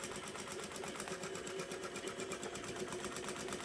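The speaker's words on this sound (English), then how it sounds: "you see this is sewing machine sewing 5 millimeter stitch length" A Brother S-7300A Nexio direct-drive lockstitch industrial sewing machine runs steadily at high speed with a 5 mm stitch length, a fast even mechanical whir and rattle filling the room with no pauses.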